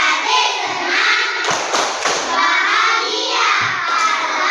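A third-grade class does a rhythmic clapping chant before going home. Loud, close group claps and thuds are mixed with children's voices chanting together, with brief pauses between phrases.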